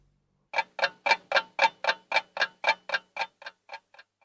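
A big clock ticks after a brief silence, about fifteen crisp, evenly spaced ticks, close and clear with no other sound, growing slightly fainter toward the end.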